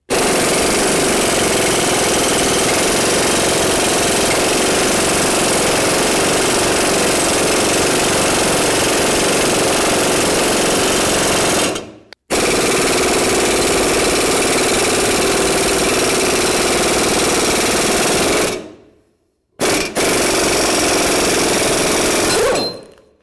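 A ball joint press drives out a ball joint on a 1999-2007 Ford F250, making a loud, continuous rattling, hammering mechanical drone that stops briefly twice before resuming, close up with no talking.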